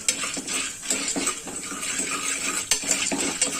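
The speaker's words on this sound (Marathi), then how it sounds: "हे व्यवस्थित परतवून घ्यायचं तेलामध्ये। ते तेलामध्ये मीठ भाजलं पाहिजे।" Popcorn kernels and salt being stirred in hot oil in a pan on low heat: close, irregular scraping and light clinking of a spoon against the pan, with soft rattling of kernels.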